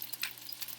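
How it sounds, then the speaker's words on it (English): Potstickers fry in a pan with plenty of oil, giving a steady soft hiss with faint crackles, close by and quiet, with no voices. "Sizzle, sizzle, sizzle."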